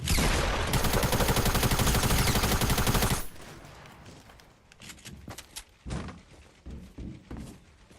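Rapid automatic gunfire from the Fortnite video game, a loud dense burst of shots for about three seconds that cuts off abruptly, followed by quieter scattered in-game sounds and a few faint isolated thumps.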